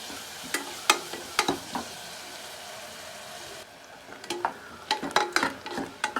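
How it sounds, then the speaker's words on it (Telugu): Onions frying with salt in a pan for a drumstick mutton curry, a constant close sizzle punctuated by irregular scraping stirs, busier toward the end. "చూడండి మనకి ఉల్లిపాయ బాగా వేగింది చూడండి"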